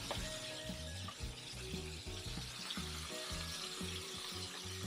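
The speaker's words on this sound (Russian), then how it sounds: "мы лук мелко нарезали и обжарили" Steady sizzling and crackling of finely chopped onions frying in hot oil, with faint clinks and a constant background hiss, no one speaking.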